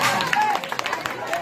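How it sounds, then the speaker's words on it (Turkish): A short burst of crowd clapping and cheering at a lively gathering in Ankara, loud and close, with voices mixed in. "Alkış gelsin küçük Şişko'ya."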